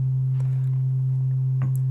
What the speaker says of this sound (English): So I've got a sine wave ready to go.